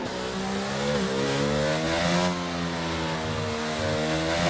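Onboard engine of a Ferrari F1 car in a racing video game, set at the 2001 Australian Grand Prix, screaming at high revs with steady harmonic whine that dips briefly on gear changes and climbs again, loud and continuous without talk.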